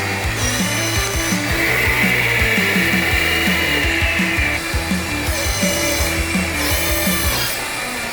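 The hydraulic pump on a 1/14 scale remote control 6x6 articulated dump truck whirs continuously, a close, buzzing mechanical drone with rapid rhythmic pulsing that shifts in pitch as the hydraulics move.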